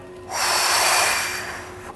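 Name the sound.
deep exhale during yoga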